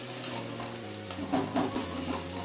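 Ginger and dry chilli being stirred in hot oil, a steady close sizzle with scraping spoon strokes through the middle, cooking for a low-oil vegetarian aloo dum.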